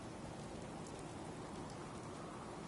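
Steady rain falling in the video game Fallout 4, a constant, even hiss of downpour with no voices, quiet and uniform from start to end.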